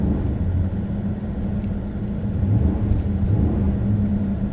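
Pontiac Grand Prix GXP engine with traction control off, a steady low rumbling drone from inside the car, holding fairly even and loud throughout without any voices.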